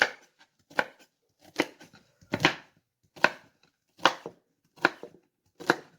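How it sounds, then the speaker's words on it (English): A knife chops celery into little chunks on a board: eight crisp, evenly spaced strikes, close and clear against silence. "So I'll just cut off both ends of the celery, cut them into little chunks"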